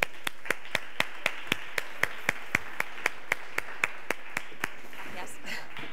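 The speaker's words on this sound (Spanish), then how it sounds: "Vamos a darle un aplauso muy muy grande a Nerea." Steady, evenly spaced claps ring out for the speaker Nerea at a business talk, about four per second, crisp and fairly close. They stop shortly before the end, leaving faint room noise.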